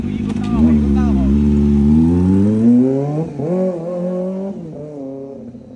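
A 6000cc superbike engine revs up and down repeatedly, loud and close, the pitch climbing and falling in several surges while voices talk over it.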